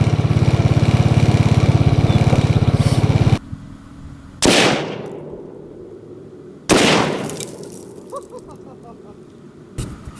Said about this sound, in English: We're gonna shoot this doll. She's got Tannerite in her.